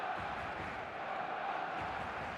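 A packed stadium crowd roars in an eFootball match as two sides prepare to face off, a dense, steady wall of cheering that carries on without a break.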